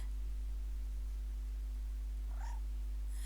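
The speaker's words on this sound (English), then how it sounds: "That is, yeah, that's the actual cat." A pet cat, a female named Vinny, gives one short, faint meow near the end, over a steady low electrical hum in a quiet room.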